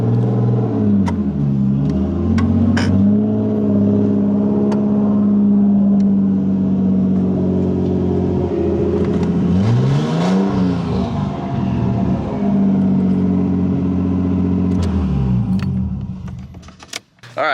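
A Nissan R32 Skyline runs close by with a low, steady engine drone that rises and falls as it revs, while keys jangle and rattle loudly over it until the sound cuts out near the end.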